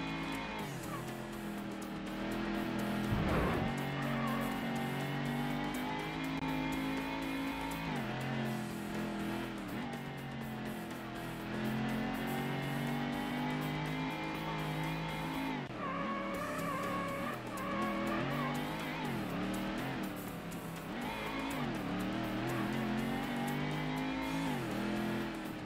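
Ford Mustang race car in the Ford Racing video game, engine droning steadily and revving through gear changes, with tire squeal and skidding on corners, loud and continuous with no talk.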